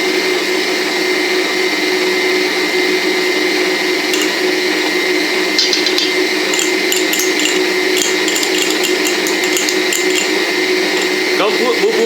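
An electric mixer on medium speed beats corn flour cake batter with a steady, loud motor whine, and scattered clicks and clatter against the bowl join in partway through.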